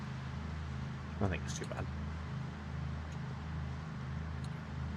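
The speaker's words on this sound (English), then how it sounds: "I do think my truck's a little bit louder than I had originally assumed" A video game pickup truck's engine drones steadily throughout, a low, even motor hum with faint road noise, while a person talks over it.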